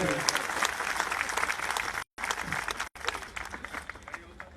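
A crowd at an outdoor Yamuna Aarti gathering claps loudly and continuously, with voices talking through it and a couple of abrupt dropouts in the sound.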